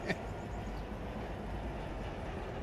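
A freight train runs in the Run 8 railroad simulator on a Los Angeles Junction Railway local, a steady rumbling roll with a faint clatter and one brief click near the start, unbroken by speech.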